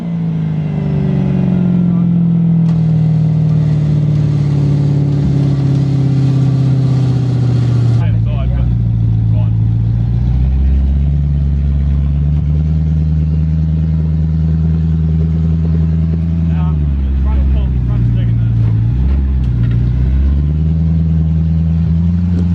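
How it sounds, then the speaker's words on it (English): A V8 4WD, a Land Rover Discovery, grinds up a steep bank on an off-road track during a Hanmer adventure, its engine droning loudly and rising and falling in pitch as it climbs, close up and continuous. "Driving up the path."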